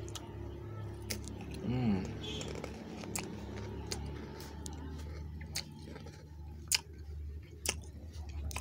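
Spicy Klik crackers being chewed close to the mic, soft crunching bites with a few sharp clicks later on, faint and intimate amid quiet room tone.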